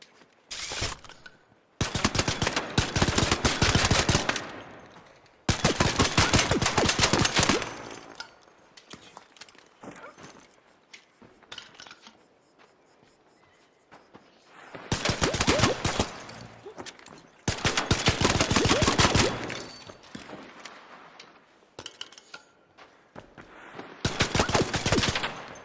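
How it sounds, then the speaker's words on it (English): Hip-fired automatic gunfire in the video game ARC Raiders comes in loud, sustained bursts, several stretches of rapid shots separated by quieter pauses. "Just seeing what hip fire was like on it."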